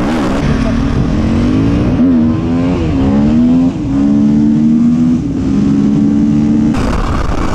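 KTM EXC-F 250cc four-stroke dirt bike engine revving hard and continuously while riding, a loud buzzy drone rising and falling with the throttle, with a brief dip partway through and rising pitch toward the end.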